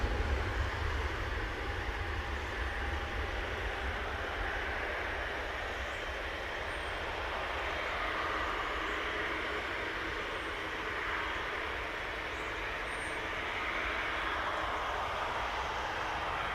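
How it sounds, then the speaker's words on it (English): Broadband jet roar from an Airbus A321neo at Manchester Airport, a steady, loud, sustained rush with low rumble that holds evenly throughout, no voices over it. "It's an A321 Neo."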